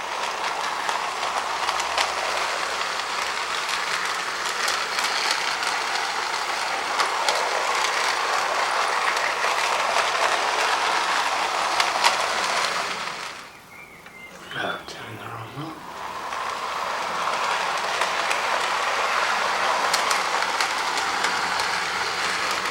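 A Kato/Peco 009 narrow-gauge Welsh Pony model locomotive hauls wagons around very tight curves, producing a steady close whirring and rolling clatter with a brief dip partway through.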